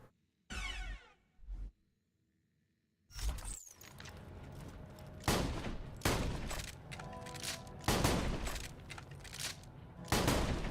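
Gunfire from a Jacobs gun in the Borderlands 2 video game: a couple of short mechanical bursts, a pause, then a sustained loud barrage of heavy shots and impacts with dense crackling blasts.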